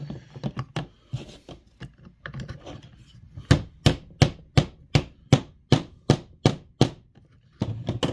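A part of an Antikythera mechanism kit is driven down onto a shaft with a dozen sharp, evenly spaced tapping blows in a steady rhythm, preceded by quieter irregular clicks and fiddling sounds, close and crisp.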